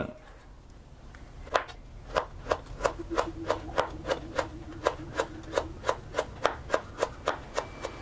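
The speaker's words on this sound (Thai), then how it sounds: "หั่นตะไคร้ก่อนหนึ่งต้น" A knife chops through a stalk of lemongrass on a board in rapid, evenly spaced strokes, getting steadier and faster as it goes, close and crisp.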